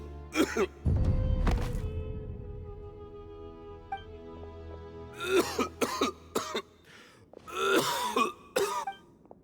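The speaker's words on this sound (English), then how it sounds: "Why is he coughing so much?" A man coughs and clears his throat in several harsh bursts, a Genshin Impact video game character, spread over a quiet, low background.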